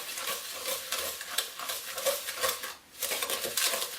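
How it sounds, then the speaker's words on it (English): Eggs and sugar are stirred together in a bowl for a brownie tart batter. The sound is a steady, close, soft scraping and swishing with light clinks of utensil against the bowl. "we've stirred our eggs and our sugar together until it's nice and fluffy"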